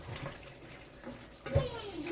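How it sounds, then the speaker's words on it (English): Another cup of water is poured into a cooking pot of Guyanese-style sweet and sour pork, a short close splash and gush with faint kitchen clatter and no speech over it. "I'm going to put 1 more cup of water"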